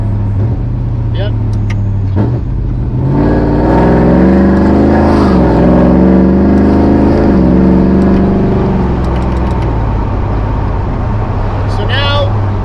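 A supercharged LT4 engine in an OBS Chevy Tahoe revs and drops through paddle-shifted gears of its 10-speed automatic, a loud steady rumble rising and falling, with a voice talking over it.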